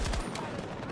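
A machine gun fires in rapid automatic bursts in a Battlefield 2042 Breakthrough match, a short, dense rattle of gunfire in the middle distance.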